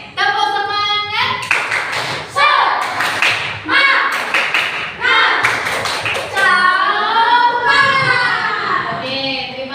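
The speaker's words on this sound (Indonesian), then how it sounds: "Kita tepuk semangat dulu biar semangat lagi." A seated group at a teachers' coaching session claps out the rhythmic Indonesian 'tepuk semangat' spirit clap, with sharp, close claps mixed with loud chanted and sung voices throughout.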